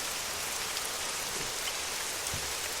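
Steady rain pours as a sound effect during a tabletop role-playing game, a dense unbroken hiss of drops spattering on surfaces with no pauses.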